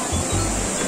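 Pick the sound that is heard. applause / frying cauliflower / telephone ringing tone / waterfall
waterfall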